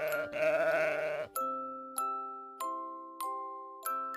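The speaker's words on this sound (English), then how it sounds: "Nine lazy sheep covered in wool." A sheep bleats in a few wavering calls near the start, followed by a string of bright bell-like chimes ringing out one after another in a children's farm-animal counting song.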